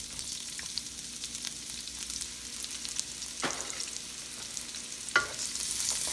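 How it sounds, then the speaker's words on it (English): Chopped onions sautéing in olive oil in a pan, a soft continuous sizzle with a couple of brief scraping stirs, fairly quiet and without talk. "Let's saute the onions for 1 minute."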